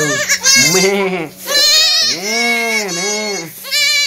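Young goat kids bleat repeatedly in loud, wavering cries, several overlapping calls close by, with brief gaps between bursts.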